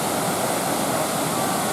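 Waterfall near Luang Prabang, Laos, pouring into a pond in a constant, loud, broad roar.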